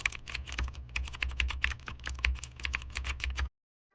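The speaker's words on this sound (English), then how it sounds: "we open our Chrome browser and type green screen background remover" Fast, steady typing on a computer keyboard, dense clicking keystrokes heard up close for about three and a half seconds before stopping abruptly, with no voices.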